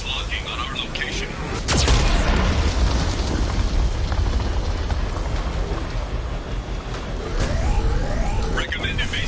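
A Geth cannon fires in the Mass Effect video game, a heavy boom at about two seconds followed by rumbling explosive blasts, with a synthetic voice speaking over the noise.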